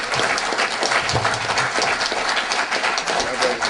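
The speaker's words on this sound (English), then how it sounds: "Please let us greet him with the applause worthy of a Pharaoh" A large audience at a PanAfricanism forum applauds to welcome the keynote speaker, a dense, steady roar of clapping filling the hall throughout, with crowd voices mixed in.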